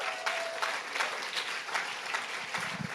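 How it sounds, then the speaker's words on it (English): A congregation applauds a runner who just finished the San Francisco Marathon, a fairly quiet, even patter of clapping lasting a few seconds, with a brief voice near the end. "Can we applaud that?"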